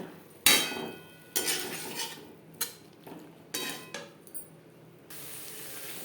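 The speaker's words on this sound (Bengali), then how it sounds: "মশলার সাথে আলু বেশ ভালো করে মিক্স করে দেব" Boiled potato pieces being stirred with spices in a pan, a few sharp metallic clinks and scrapes of a spoon against the pan, spaced unevenly with quiet gaps between them.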